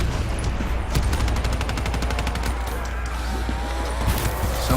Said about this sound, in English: Someone shooting me with lasers?